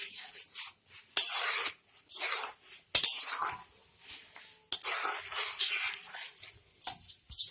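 A metal spoon stirs ghee and garam masala into matar paneer in a pan, giving bursts of clinks and scrapes against the pan with short quiet pauses between them. No one speaks.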